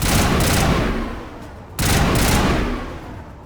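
Gunfire in Mass Effect Legendary Edition: two loud, dense bursts of rapid shots, close and harsh, separated by a brief dip in intensity.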